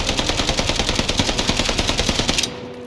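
Rapid automatic gunfire in the Warzone video game, a steady stream of loud, evenly spaced shots for over two seconds before cutting off abruptly, leaving a faint hum.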